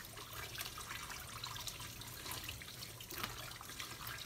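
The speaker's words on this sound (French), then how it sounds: "On va encore laver la viande," Pork chops are rinsed under running water at a sink, a steady soft rush and splash with faint dripping, fairly quiet and continuous throughout.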